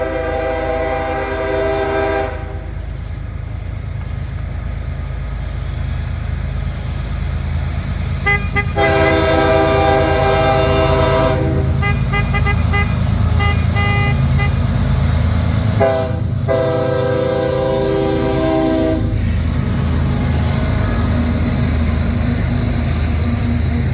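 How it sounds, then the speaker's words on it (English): A CSX mixed freight train approaches in Monrovia, sounding its horn in several long loud blasts separated by short pauses, over a constant heavy rumble of the locomotive and rolling cars nearby. "CSX M412 is approaching right now here in Monrovia."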